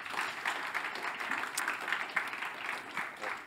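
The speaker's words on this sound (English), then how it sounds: "let's give an applause" A conference audience in a hall gives a short burst of clapping, fairly light and uneven, swelling and thinning over a few seconds with some faint voices underneath.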